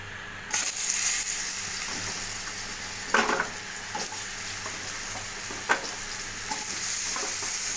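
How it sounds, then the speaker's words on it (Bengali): Potatoes frying in oil in the same pan used for fish, a continuous close sizzle broken by occasional utensil taps and stirring knocks, with no speech. "আলুগুলোকে ভেজে নেব।"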